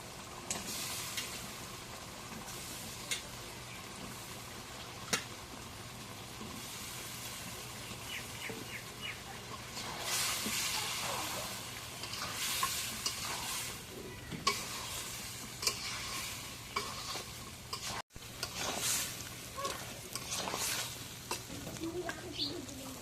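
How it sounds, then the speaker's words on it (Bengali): Desi chicken and potatoes sautéing in a pan at home, a steady close sizzle with scraping stirs and occasional sharp clicks of a spatula, no voices. "মাংসটা কষানি করলাম, মানে আলু দিয়ে একটা কষানি করি, কটা আলু দিই।"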